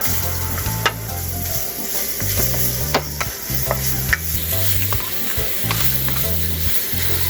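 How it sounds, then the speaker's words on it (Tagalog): Ginger sautéing in margarine in a pan for a Filipino chicken dish, with a continuous loud sizzle and repeated rhythmic scraping strokes of a spatula stirring, close up, no talking. "Gagawin ko pong mantika ay star margarine. Dito po tayo mag-igisa. Ka, igisa natin ang luya."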